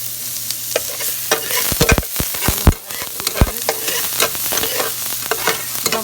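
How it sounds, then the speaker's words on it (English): Shallot and garlic sizzle in hot olive oil in a pan that has just cooked meat, a steady crackling fry broken by sharp clinks and scrapes of a utensil stirring. "I'm going to add olive oil to cook the meat. And then I'm going to add the shallot and the garlic together."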